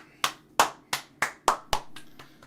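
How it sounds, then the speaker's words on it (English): One person claps about seven times during a game jam livestream, sharp close handclaps in a slightly uneven rhythm that fade softer toward the end, with no talking. "Can get a round of applause."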